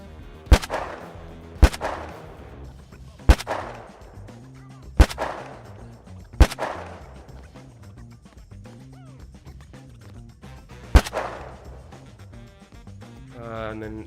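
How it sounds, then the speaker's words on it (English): Shotgun fire in a game built in Unreal Engine 5: six loud, sharp blasts spaced a second or two apart, each with a short decaying tail, over quiet background music. "This is a shotgun."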